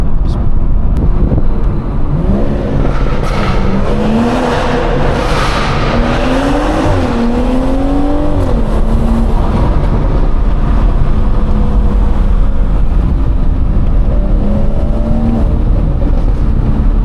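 A loud BMW 440i accelerating on the road, the engine note climbing and falling through several gear changes, sustained and close for the whole stretch.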